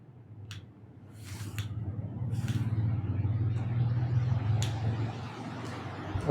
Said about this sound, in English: this is the maximum speed of the fan right now